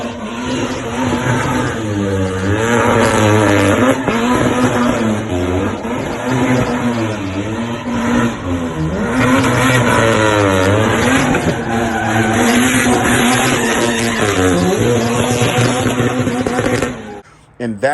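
Turbocharged car engine stuttering and missing from oil-fouled spark plugs, a steady loud running drone that wavers and hiccups repeatedly throughout before cutting off abruptly at the end.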